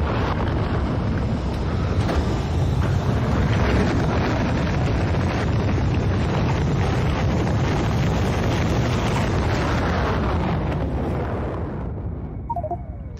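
Rocket launch in Factorio: Space Exploration, a loud dense roaring rumble that holds steady for about ten seconds before easing off and thinning out near the end, with no talking.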